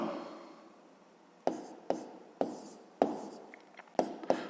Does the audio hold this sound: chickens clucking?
no